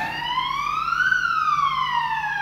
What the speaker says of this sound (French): On va laisser passer l'ambulance.